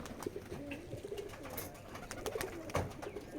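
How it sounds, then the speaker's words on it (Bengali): A wild pigeon coos in soft, low repeated calls close by in a pigeon loft, with faint background rustling and no speech. "এই দেখেন বন কবুতরটা এটার পিছনেই পড়ে আছে, আর ওইটার সাথে জোড়া দেওয়া"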